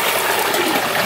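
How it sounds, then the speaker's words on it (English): A whole turkey deep frying in oil at 325 degrees Fahrenheit fills the air with a steady, loud, dense bubbling and hissing roar, unbroken and close. "you hear that bubbling right there?"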